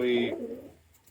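A pigeon gives a brief, soft coo close by, a single low throaty call fading out within about a second.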